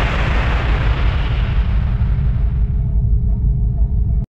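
A torpedo fired from launch tube 8 of a submarine, a loud sustained rushing, rumbling whoosh that fades over about three seconds and then cuts off abruptly.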